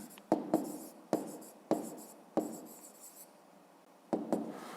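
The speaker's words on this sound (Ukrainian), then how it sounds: "останнє записуємо відповідь" Pen or pencil writing out an answer by hand on paper for a fifth-grade maths exercise, with about seven short scratchy stroke bursts spread across the clip, close and fairly quiet, separated by brief pauses.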